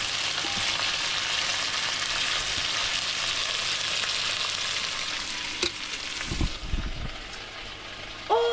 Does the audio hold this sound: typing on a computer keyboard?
no